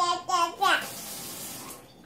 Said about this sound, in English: Fill the rest with water.